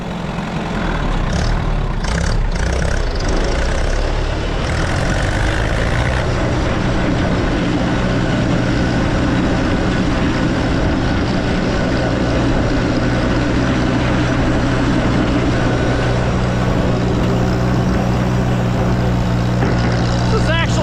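An Allis-Chalmers or Farmall tractor runs in fourth gear on light throttle with the mower deck raised. The engine drones steadily and loudly the whole time, with a low rumble under it and wind buffeting at the start.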